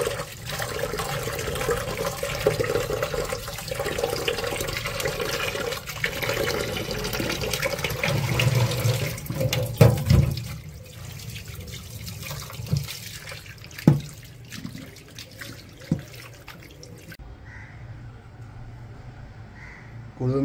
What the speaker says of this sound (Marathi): चला त्याला आता आपण धुवून घेऊया। स्वच्छ अशी त्याला धुवून घेऊया।